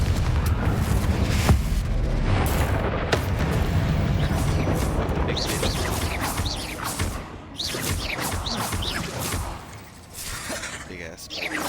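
Blasting fire spell explosions in the Hogwarts Legacy video game, a series of loud booming, shattering bursts with crackling debris over dense game noise, with a player's voice calling out between blasts.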